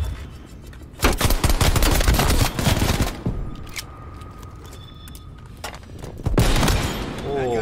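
Bursts of automatic gunfire from the Cold War beta video game ring out in dense volleys, loud then pausing, then another burst near the end, with a voice talking faintly among the shots.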